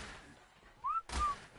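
Two short rising whistle tones, the player's whistle command in the ARK video game, sound clearly over a quiet background, each under half a second.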